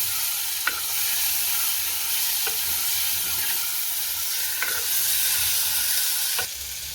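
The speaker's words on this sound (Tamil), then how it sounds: "இப்போ நாங்கள் வெட்டி வச்சிருக்கிற தக்காளி பழத்தை இதோட சேர்க்க போகிறோம் சேர்த்துட்டு அதையும் ஒருக்க வடிவாக கிளறிவிடுவோம்" Chopped tomatoes stirred in a hot frying pan while making egg devil, a steady loud sizzle with a few sharp scrapes of the utensil against the pan, close and alone.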